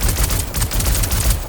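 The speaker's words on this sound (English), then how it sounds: "Let's see if I can gun these guys down." Rapid bursts of gunfire from the Star Citizen video game crackle in a dense, continuous volley, loud and close for the brief moment, with no talking.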